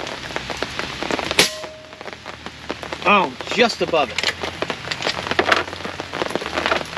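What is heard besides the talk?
heavy rain falling during airgun shooting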